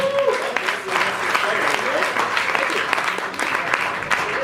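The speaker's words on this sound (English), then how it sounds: "Give a round of applause" An audience at a talk on transhumanism breaks into dense, continuous applause, many hands clapping steadily at close range with voices mixed in beneath.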